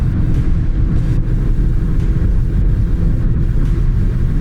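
An Audi A3 1.8 TFSI speeds along at around 180 km/h. A loud, continuous roar of engine, tyres and wind fills the cabin, steady and unbroken throughout.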